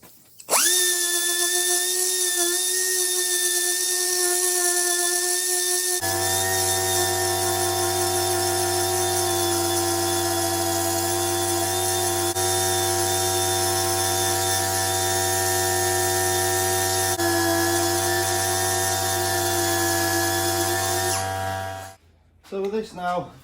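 Electric power sander working on BMW E91 windscreen mouldings, a steady loud whining buzz held continuously for about twenty seconds, with a deeper motor drone joining partway through, then cutting off near the end.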